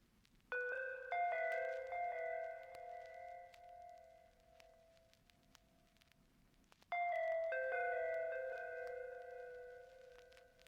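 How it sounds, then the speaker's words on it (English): A soft synth counter melody played on the Omnisphere Elon X patch for a beat: bell-like sustained notes in two phrases, the second entering after a pause, fairly quiet and with no voices. "The sound used for the counter melody, also taken from Omnisphere, is Elon X"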